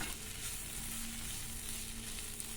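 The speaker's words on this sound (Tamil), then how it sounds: "பெரிய வெங்காயம் 2 பெரிய வெங்காயத்தை நறுக்கி நன்றாக வதக்கிக்குங்க." Chopped onions sautéing in oil with cumin seeds in a kadai, cooking for prawn thokku; a steady, close sizzle and crackle of frying runs without a break throughout, with no voices.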